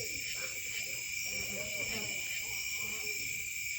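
An owl hoots softly in the distance at a cemetery, repeated low calls over a constant chorus of crickets and insects at night.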